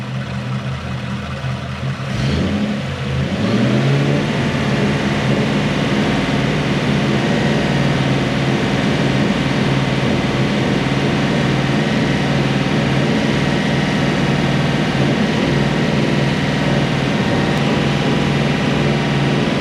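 A Toyota Celsior / Lexus LS400 engine holds a raised, steady rev after a brief rise, droning loudly and continuously nearby with no talk over it.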